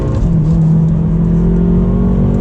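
A BMW M5 F10 pulls hard in second gear, its engine roaring loud and steady with a rising drone throughout, close and continuous with no talking.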